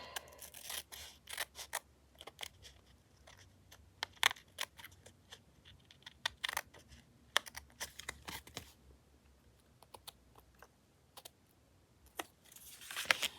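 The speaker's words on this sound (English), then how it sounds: "I need the scissors" Scissors snipping paper or card during a craft project, a rapid series of crisp, close cuts with short pauses, no talking.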